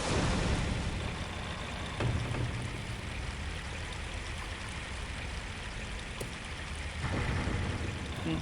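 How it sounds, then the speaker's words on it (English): An underwater elevator in the original Unreal game moves steadily through a continuous watery rush with a low mechanical hum, which swells at the start and again near the end. "this button can be used to bring the elevator up and down"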